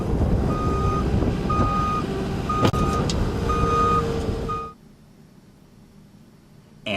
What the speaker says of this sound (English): backup alarms on vehicles